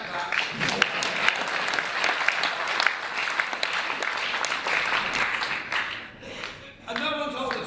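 A crowd at a political speech at the Jewish Chronicle breaks into sustained applause, loud and dense with clapping, for several seconds before it thins out, with a voice faintly mixed in near the end.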